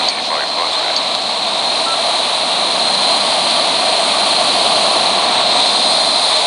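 Jet airliner landing in the mobile flight game Xtreme Landing, a loud steady engine roar and whine holding throughout.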